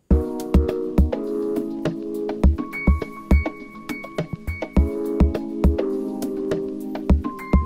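An Uberschall bed loop plays a laid-back groove, thumping low kicks and ticking percussion under sustained mellow tonal chords, steady and close, with no speech over it.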